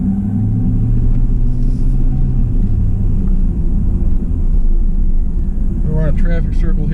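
A 2002 GMC Sierra Z71 4x4 pickup with a 3.73 Posi rear end drives along, its engine giving a steady low rumble throughout and rising briefly near the end; a voice talks over it.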